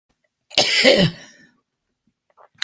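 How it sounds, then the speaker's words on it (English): A single sharp cough, close and loud, followed by silence and a faint short throat sound at the end. "Give me 1 second here so that I can cough"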